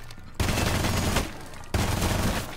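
Gunfire in the video game Rainbow Six Siege comes as dense bursts of loud, close shots, one rattling volley running into a second with hardly a break.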